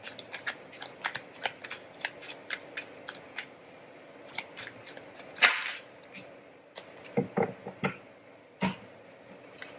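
Tarot cards riffle and snap in quick repeated bursts, close and crisp, with a few sharper slaps of cards set down near the end and no talking.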